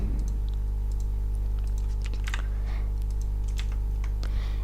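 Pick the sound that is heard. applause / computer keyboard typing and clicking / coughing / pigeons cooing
computer keyboard typing and clicking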